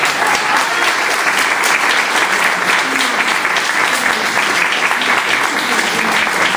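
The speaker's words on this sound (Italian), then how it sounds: "quindi a maggior ragione un applauso a Elena." Audience applause at the Premio Trinacria Santo Trovato award evening, a loud, sustained wash of many hands clapping steadily from start to finish.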